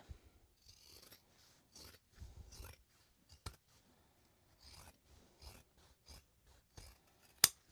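Scissors trimming excess fabric from sewn seams, a series of short crisp snips and rustles of cloth in irregular bursts, close and quiet, with one sharper click near the end.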